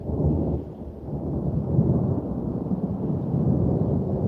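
Low, continuous rumbling thunder from a storm at dusk rolls on for several seconds with no breaks, loud and heavy in the low end with no talk over it.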